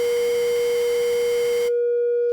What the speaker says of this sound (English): let's play our sine tone here